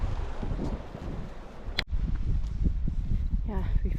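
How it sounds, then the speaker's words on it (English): Steady wind rumbles against the microphone on a walk at Kinder Reservoir with low blustery roar, broken by a sharp knock midway, faint background voices underneath. "it's getting a bit windy."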